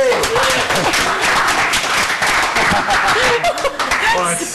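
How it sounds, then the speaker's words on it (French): A studio audience on a French-language talk show breaks into dense, loud clapping mixed with chuckles and laughter, keeping up a continuous wash of sound for several seconds. "On applaudit Mme Josée."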